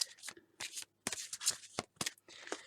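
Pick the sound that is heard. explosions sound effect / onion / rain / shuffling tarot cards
shuffling tarot cards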